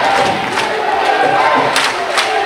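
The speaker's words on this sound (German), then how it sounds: "Zuschauer gehen natürlich jetzt mit" Spectators at a youth basketball playoff game between ART Giants Düsseldorf and Alba Berlin, a loud, steady roar of crowd cheering and shouting filling the hall without pause.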